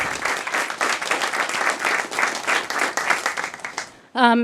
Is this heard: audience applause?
yes